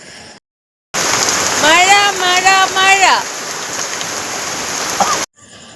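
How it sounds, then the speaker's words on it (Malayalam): Heavy rain pours down steadily and loudly, with a dense even hiss that runs for several seconds before cutting off, and a brief wavering tonal sound rising over it midway. "നല്ല അരമണിക്കൂർ നല്ല മഴ പെയ്തു"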